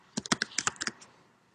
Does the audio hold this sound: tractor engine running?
no